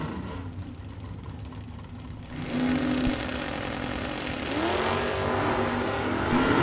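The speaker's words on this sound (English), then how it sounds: "Beautiful wheels-up launch for Aaron Johnson on the right-hand side." A bracket drag racing car at a fall nationals event lifts its front wheels on launch, the engine note jumping from a steady rumble to a loud, sustained roar that rises in pitch as it accelerates away, heard without talk.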